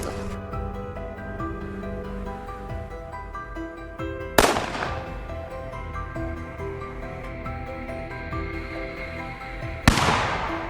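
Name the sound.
rifle shot during a wild boar hunt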